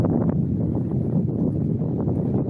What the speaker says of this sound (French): J'espère que le vent ne gêne pas trop